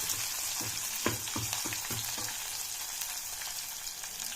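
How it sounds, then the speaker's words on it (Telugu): Onion frying in hot oil for chicken biryani gives a steady broad sizzle, with a run of spatula scrapes and stirring knocks near the start that fade into continuous frying hiss. No one speaks. "ఒక ఉల్లిపాయ, ఉల్లిపాయ బాగా ఎర్రగా ఫ్రై చేసుకోవాలి."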